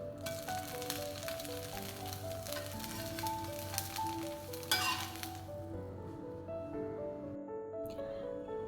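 Lentil dosa batter cooked in sesame oil sizzles steadily on a hot pan, a continuous close frying hiss with occasional light clinks of a utensil.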